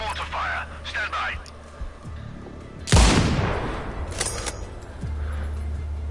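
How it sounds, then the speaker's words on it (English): Mortar fire in a sniper video game: a heavy, loud boom bursts out midway and rolls off in a long rumble, with radio chatter and low engine-like hum around it. "Continuing mortar fire."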